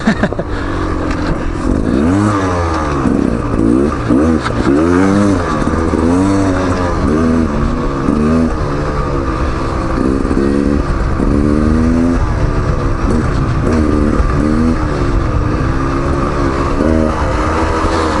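A Beta Xtrainer 300 dirt bike being ridden off-road, its two-stroke engine loud and close throughout, rising and falling in pitch as the throttle is repeatedly opened and eased off.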